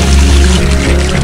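Water pouring from a village fountain, a continuous close splashing gush, loud and steady for a brief moment with no talking.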